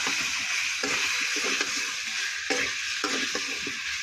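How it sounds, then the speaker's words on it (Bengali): Spices with turmeric and salt fry in oil while being stirred, giving a dense, close sizzle broken by repeated scraping strokes of a spatula across the pan, with no voices. "আর দিয়ে দিলাম হলুদ, মাপ মতো হলুদ, লবণ। ভালো মতো নাড়া দেবো।"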